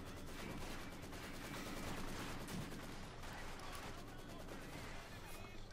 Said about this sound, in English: machine gun appears out of nowhere and shoots some Russian down